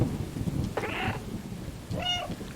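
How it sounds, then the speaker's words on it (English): A cat meows twice in the video game Stray, with short, separate cries about a second apart over a steady low rumble of rain and thunder. "Well, I can do cat talking."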